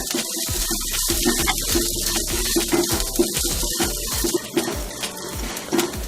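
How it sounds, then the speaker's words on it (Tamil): Water runs and splashes steadily into a cooking pot of horse gram soup for several seconds, a close, continuous pouring with faint clinks of cookware beneath. "இது கூட நம்ம தேவையான அளவு தண்ணி சேர்த்துக்கலாம்."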